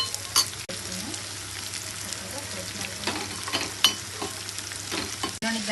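Chutney simmers and sizzles steadily in a pan alongside prawn curry and ragi upma, with soft stirring scrapes and small pops over a continuous frying hiss; no voices.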